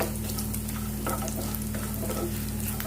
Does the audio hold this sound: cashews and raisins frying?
yes